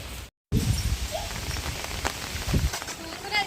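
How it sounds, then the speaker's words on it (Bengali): Heavy rain from Cyclone Remal pours down on a Sundarbans village, a dense, close hiss of drops hitting surfaces that runs almost without pause, with thumps of nearby handling. "এত বর্ষা হচ্ছে সবাই গিয়েই বর্ষায় ভিজতে হচ্ছে"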